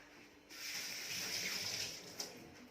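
Hands are washed under a running household tap. The steady rush of water starts abruptly, flows for about two seconds and then eases off. It is close and moderately loud.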